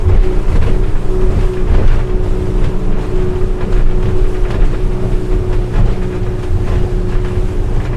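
A Merry Fisher 895 Serie 2 motorboat runs at speed through a turn on open water, its engine a steady loud drone mixed with rushing hull and water noise and constant wind buffeting on the microphone.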